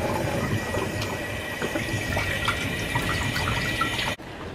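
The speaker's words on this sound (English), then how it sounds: "I'm gonna wash these. Not wash, but rinse" A kitchen tap runs steadily while food is rinsed under it, a close, continuous splashing hiss that cuts off abruptly near the end, leaving quieter room tone.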